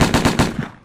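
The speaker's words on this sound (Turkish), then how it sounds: "Çatışma" Gunfire in the stealth game Alekhine's Gun: a loud, close burst of four or five rapid shots in quick rhythm within a second, each with a sharp crack, trailing off into a fading echo.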